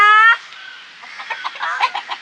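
Hens cluck in a short run of soft, irregular notes close by in a home yard, after a brief high tonal call at the start.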